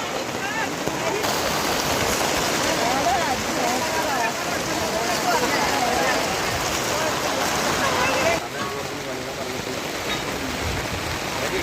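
Steady monsoon rain pours down in a continuous broadband hiss, with faint voices talking beneath the downpour throughout.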